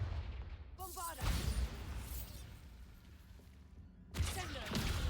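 Bombarda spell explosion in a Harry Potter video game: a deep, rumbling blast with crackling bursts, followed by a second burst near the end, amid game sound effects.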